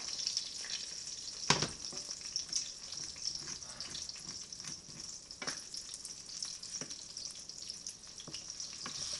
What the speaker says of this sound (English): And let the butter kind of mix around with the hash browns.